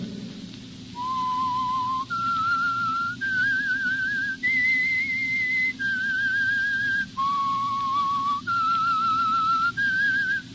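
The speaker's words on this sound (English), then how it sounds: "That whistle is your signal" A lone whistler carries the eerie theme tune of The Whistler radio mystery show, a slow rising and falling melody of sustained notes, clear and steady over a soft hissing, rumbling background.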